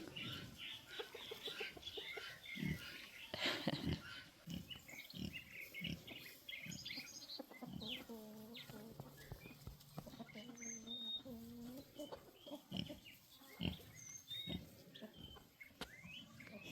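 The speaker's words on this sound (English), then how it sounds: "Just a little bit of pig drama." Pigs grunting and squealing in bursts, with chicken clucks mixed in, close and busy throughout, with occasional louder snorts.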